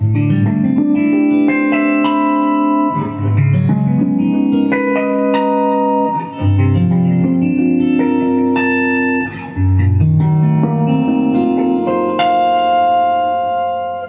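An acoustic guitar rings out chiming harp harmonics over low bass notes in repeated phrases, with bell-like tones sustaining and overlapping.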